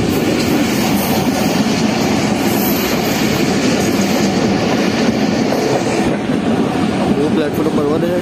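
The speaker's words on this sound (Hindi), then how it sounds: "ये लाइन में जाकर वाइट ट्रेन जा रही है" A train rolls past a platform at a Karachi station, a loud continuous rumble of wheels and carriages with clattering rail noise throughout, and voices faintly beneath.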